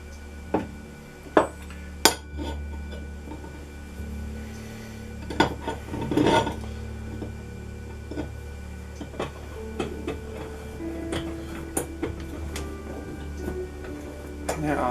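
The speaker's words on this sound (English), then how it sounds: "go ahead and tap it with a 3/8 inch tap" A 3/8 inch tap, oiled, cuts threads into metal at a workbench. It gives a quiet, intermittent rasping scrape with a few sharp ticks and clicks over a low steady hum.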